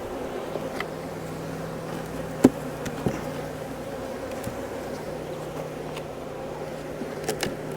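Angry honeybees around a hive give a steady, close buzzing drone with a few sharp knocks and taps, no talking.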